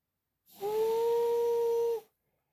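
A single long steam whistle sounds a steady two-tone blast for about a second and a half, clear and alone against silence.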